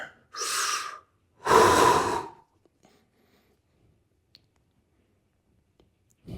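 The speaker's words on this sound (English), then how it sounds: "Take a couple deep breaths." Deep breathing during a stretch in a cardio workout, two long, loud, close breaths about a second each, followed by near silence with faint small clicks.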